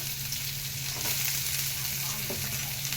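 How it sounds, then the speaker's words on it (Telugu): Onions and green chilies fry in hot oil for a pachi methala pulusu, giving a steady, close sizzling hiss with faint stirring scrapes and no voices. "ఆయిల్ కొంచెం వేడెక్కాలండి ఉల్లిపాయలు వేసుకుందాం పచ్చిమిర్చి"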